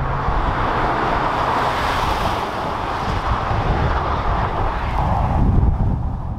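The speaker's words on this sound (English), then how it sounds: "Let's put the car in Sports and drive." A 2019 Kia Sportage SUV with a 2-liter diesel drives in Sport mode, giving a steady broadband cabin rumble of engine, road and wind noise that swells slightly near the end, with no talk.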